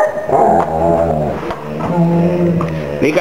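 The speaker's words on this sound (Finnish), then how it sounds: "Mikä täällä murisee, hä?" A big dog growling up close, a loud, rumbling, continuous snarl that rises and falls over a few seconds with no talking.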